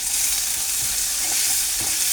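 Onions frying with curry leaves in hot oil, a dense, even sizzle heard up close and alone, with a couple of faint stirring knocks.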